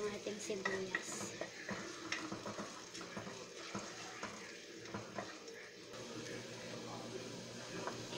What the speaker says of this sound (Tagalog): Sote-sote lang po siya hanggang maluto po yung ating sibuyas.